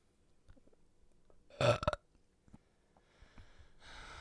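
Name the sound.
burping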